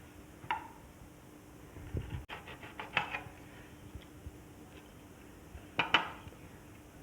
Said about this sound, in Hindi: तो चले कटिंग करते हैं अमरूदों की।